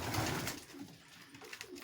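Soft pigeon cooing in a close, busy pigeon loft, several low murmuring calls overlapping against a steady background hiss.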